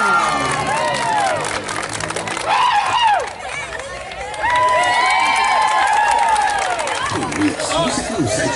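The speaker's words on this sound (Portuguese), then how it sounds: "Rapaz, aplauso!" A crowd cheers and applauds at a women's futsal trophy ceremony in Pindaí, Bahia, as the runner-up team's captain is honoured. Shouts and whoops rise and fall over steady clapping, with excited voices throughout.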